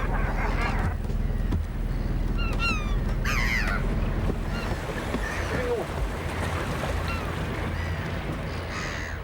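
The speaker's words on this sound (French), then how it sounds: "un îlot où nichent des milliers d'oiseaux de mer, groupés en grandes colonies très bruyantes" Thousands of nesting seabirds call from a noisy colony on a small island as a boat approaches, harsh honking and cawing cries scattered near and far over a steady low boat engine rumble.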